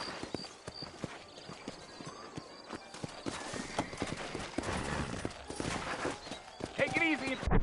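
Horse hooves clip-clop in the Western video game Red Dead Redemption, a steady run of sharp hoof strikes on hard ground beneath game dialogue, growing busier with other activity toward the end.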